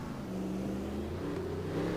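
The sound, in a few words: race car engine revving in second gear, racing video game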